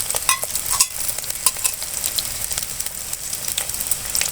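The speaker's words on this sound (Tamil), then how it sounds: "நம்ம வெங்காயம் போட்டுக்கலாம் பச்சை மிளகாயும் உள்ளே சேர்த்துக்கலாம்" Chopped onion and green chillies fry in hot oil with popped mustard seeds, a steady close sizzle with scraping stirs and small crackles throughout.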